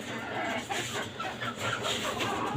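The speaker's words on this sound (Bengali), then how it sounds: "আর এখানে আরও একজোড়া নতুন আমার ফার্মি মুরগি আছে" Several farm chickens cluck softly and steadily in a rooftop poultry coop on a five-storey building, a continuous close, low murmur of hen sounds with faint background noise and no talking.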